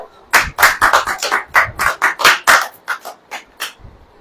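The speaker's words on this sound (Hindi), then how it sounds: "ताली बजाओ" A congregation at a Sunday sermon claps in a burst of loud, uneven, close hand claps lasting about four seconds, then thins out to scattered claps at the end.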